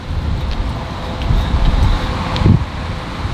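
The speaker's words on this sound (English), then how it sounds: "Sure get windy out here." Wind gusting outdoors on a city street in Minneapolis, a steady low rumble and buffeting with rising gusts near the mic, no speech.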